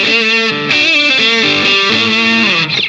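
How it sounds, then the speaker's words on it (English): A PRS SE Custom 24 quilt-top electric guitar played through a Tube Screamer overdrive, loud and up close, with a series of sustained distorted notes and bends ringing out alone. "We'll engage a tube screamer here, see if it does some spankier tones."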